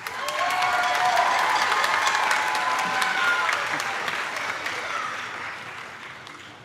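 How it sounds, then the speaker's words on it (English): A crowd at a school band spring concert gives a sustained round of applause with some cheering, loud and full at first and slowly tapering off. "let's give one more round of applause"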